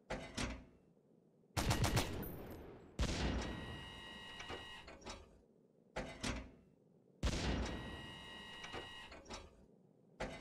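Tank cannon fire in Stormworks from a belt-fed autoloader on the XMBT MK 5: three sharp, loud booming shots at an even spacing, each decaying into a ringing mechanical tail, with a softer rumble between them and no speech.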